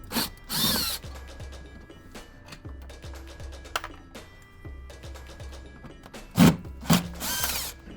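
Power driver backing out Torx 25 screws on a Porsche, short whirring bursts and clicking ratchet sounds close by, with quiet gaps and handling clatter between screws.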